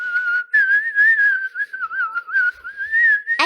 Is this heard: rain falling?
no